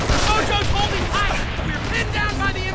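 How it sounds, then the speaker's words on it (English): Submachine gun fire on the Hard Landing mission in Call of Duty: World at War, dense rapid bursts crackling continuously at close range with voices talking over the battle. "SMG fire from the second floor!"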